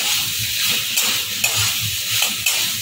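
Masala eggplant with coriander leaves being stirred in a pan, a steady sizzle of frying with repeated scraping strokes of a spatula at close range, no voices.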